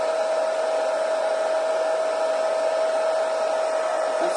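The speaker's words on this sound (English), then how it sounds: "at least this way with the hairdryer, it does give, it doesn't seem to warp your card as much" A hairdryer on a cool setting blows steadily over texture paste on a card, giving a constant close whine and airy rush without breaks or talking.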